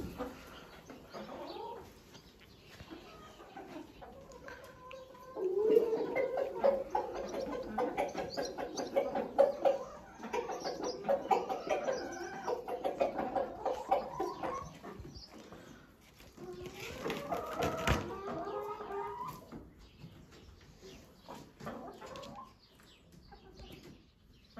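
Chickens cluck and murmur steadily at close range, with a few sharper calls rising over the flock's chatter and some rustling.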